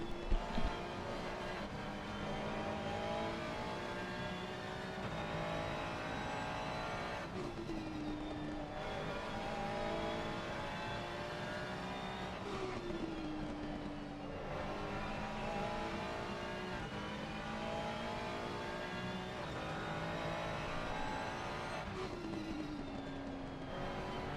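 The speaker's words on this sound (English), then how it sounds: "we will see cars all over the place and all over the track" Race cars lap the Brands Hatch circuit during qualifying, their engines droning loudly and continuously, with repeated rising and falling passes as cars go by one after another.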